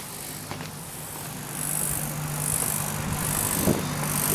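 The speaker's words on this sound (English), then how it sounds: "Yeah, that's the compressor on." A Duratech 7+ air source heat pump for a koi pond runs with a steady low compressor hum and a faint fan whoosh, rising slightly as it settles into operation.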